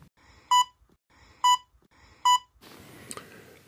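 Three evenly spaced electronic beeps from a Vivitar outdoor Wi-Fi security camera sound clearly against near silence, followed by a burst of background noise.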